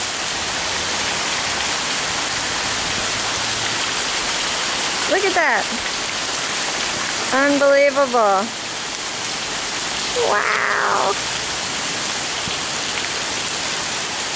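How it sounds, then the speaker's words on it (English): Heavy rain pours steadily through a storm on a residential street, a constant loud hiss running through the whole stretch while excited voices exclaim over it. "And then I'm gonna go out in the rain for a little bit."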